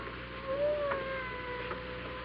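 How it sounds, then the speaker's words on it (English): A cat meows in an old-time radio mystery drama, a faint, drawn-out, wavering cry heard once or twice over a quiet, hissy background. "I hear a cat."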